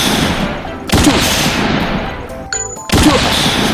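Toy Nerf sniper rifle firing, heard as two sharp, loud shots about two seconds apart, each a brief broadband crack over steady background hiss with a short electronic beep between them.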